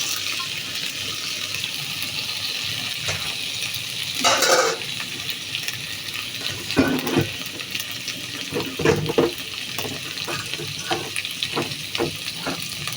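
Okra frying in a pan with a steady sizzle, broken by scraping stirs and a brief louder burst of spatter, close and moderately loud with no voices.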